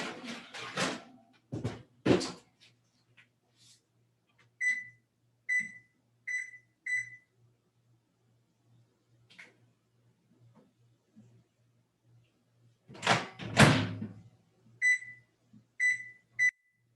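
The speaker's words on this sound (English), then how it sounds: "set a microwave timer for that." A microwave timer sounds in a kitchen while sweet potatoes cook, giving two sets of four short, evenly spaced electronic beeps. Talk comes before and between them, and a faint low pulsing hum runs underneath.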